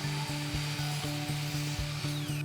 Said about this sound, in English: Set your miter saw to 45 degrees for perfect seamless joints.